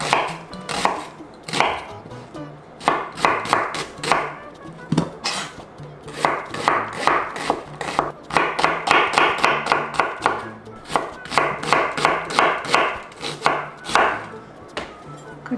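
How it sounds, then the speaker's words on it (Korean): Knife chopping onion on a board, about 200 g being scored and minced for a Spam dish: rapid, loud, close rhythmic thuds in bursts with brief pauses, no talk. "양파 200g 칼집 넣어서"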